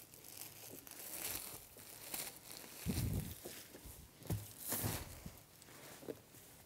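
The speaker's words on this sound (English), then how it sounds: "I'm cutting on the back side of this, so there's no risk of me cutting the vinyl with the knife" A knife slicing through vinyl upholstery from its back side while reupholstering a reformer carriage, heard as close crinkling, tearing and crunching with irregular bursts of louder rustle and no voices.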